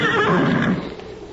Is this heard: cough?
no